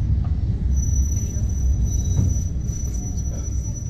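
A Dartmouth Steam Railway steam train stands paused at a double level crossing near the sands. A steady, low, close rumble fills the scene, with a faint thin high whine and light background voices.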